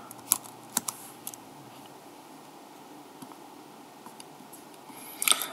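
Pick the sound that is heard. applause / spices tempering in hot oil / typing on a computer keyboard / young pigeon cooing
typing on a computer keyboard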